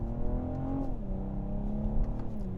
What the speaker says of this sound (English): BMW's B58 is one of the best 6-cylinder engines on the market, period.